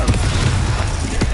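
Confringo spell blasts in Hogwarts Legacy, a loud, dense burst of booming impacts and crackle with a few sharp hits.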